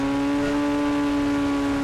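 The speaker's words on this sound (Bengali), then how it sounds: "গাড়ি চলা শুরু হয়ে গেছে" Sports car engine in the IBD 3D driving game accelerating, a loud steady engine drone with strong harmonic hum held throughout the short burst, no voices.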